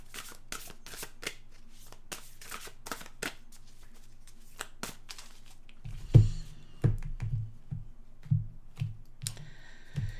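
Oracle cards being shuffled by hand, a run of crisp riffling flicks and taps that ends in a few louder, closer card slaps near the end, heard alone without talk.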